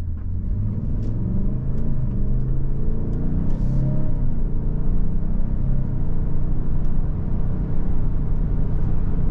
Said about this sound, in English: Now we're going to take off, right? We have a new engine. We're going to feather in the gas here in